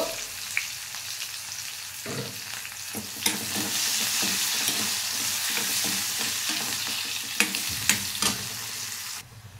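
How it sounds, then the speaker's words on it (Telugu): Chopped onions with curry leaves sizzle steadily in a hot pan, a dense continuous frying hiss broken by a few sharp clicks and scrapes of stirring, close and fairly loud with no voices. "ఇది వేగుతుంది కదా"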